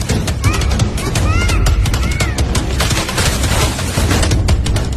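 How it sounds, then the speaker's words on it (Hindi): A dramatized story sets off a deafening blast amid rapid gunfire, a dense, continuous barrage of loud cracks and booms with a voice faintly heard through the noise. "इसके बाद एक कान फाड़ देने वाला धमाका और सब कुछ हमेशा के लिए खामोश हो गया।"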